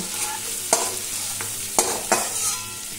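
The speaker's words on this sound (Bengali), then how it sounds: "चिंगड़ी माछटा तेलेर उपर नाड़ाचाड़ा करे हालका करे बेश भेजे निয়েছি" Shrimp stir-fried lightly in oil for a Bengali prawn and spinach dish, with a steady soft sizzle broken by a few sharp scrapes and clinks of the spatula, close up and with no talking.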